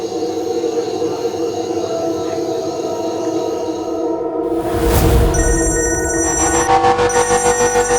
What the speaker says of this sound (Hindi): कॉल आ रहा है।